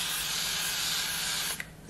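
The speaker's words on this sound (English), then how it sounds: "spray my glue" A spray can of glue hisses in one steady continuous burst lasting nearly two seconds, loud and close, then cuts off with a short sputter.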